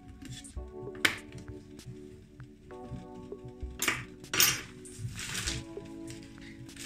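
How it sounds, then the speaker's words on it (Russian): Metal pot and utensils clink and clatter sharply several times as spaghetti goes into salted boiling water with a spoonful of vegetable oil, close by over a steady low hum. "И опускаю спагетти вариться."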